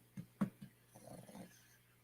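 A dog gives a few short low growls followed by a longer, rumbling growl, close and quiet, with no talking.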